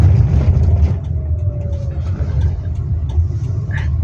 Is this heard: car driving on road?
yes